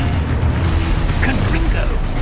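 A Confringo fire spell blast in Hogwarts Legacy: a loud, dense booming burst with crackling mechanical texture, sustained and close, with a voice calling out over it.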